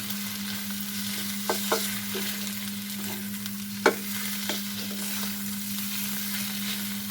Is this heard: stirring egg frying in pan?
yes